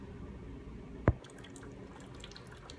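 A single drip of oil and water from a 6.0 Powerstroke diesel engine being disassembled lands with a sharp, close plop, followed by quiet background hum.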